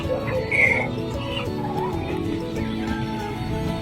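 Chickens kept by a father, a large one among them, cluck in short, soft bursts close by, with a brief higher squawk early on over faint background noise.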